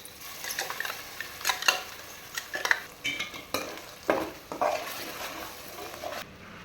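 Spinach and green chilli paste frying in a pan for palak paneer biryani, stirred with a utensil in repeated scraping strokes over a steady close sizzle, no voices.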